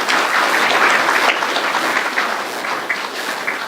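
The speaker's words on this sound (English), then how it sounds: "I would like a round of applause for Danita Love for her service to the NOCCA" An audience at a NOCCA annual meeting breaks into sustained applause, a dense steady wash of many hands clapping throughout, loud and continuous with no talk over it.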